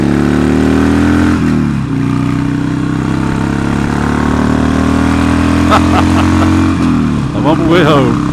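Old motorcycle pulling away, its engine loud and close, revving up through rising pitch sweeps, briefly dropping as gears change, then climbing again, with a voice heard faintly over it.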